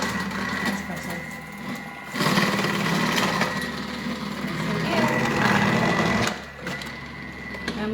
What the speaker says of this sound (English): I'm really excited with the cutter, because before, you know, I'd have to be standing there for ages just cutting these up